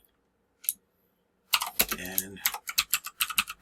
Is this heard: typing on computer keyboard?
yes